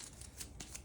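Conflict cards for the Dune Imperium board game being shuffled, giving a few quick, papery riffling bursts close by with no talking.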